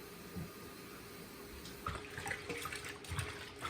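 Tap water runs over vegetables, cabbage leaves among them, being washed at a sink, a quiet steady splashing flow with faint rustles and no talking.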